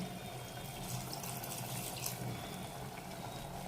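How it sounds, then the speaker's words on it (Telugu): Water pours steadily into a clay cooking pot of mutton curry, a continuous splashing rush at close range with no talking. "ఇప్పుడు వాటర్ వేస్తున్నాను."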